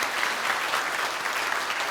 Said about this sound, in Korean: 저희가 박수로 환영하도록 하겠습니다